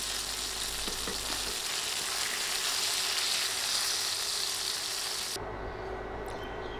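Brinjal pieces fry in hot oil with a soft, continuous crackling sizzle that holds steady and fairly quiet throughout, with no voices.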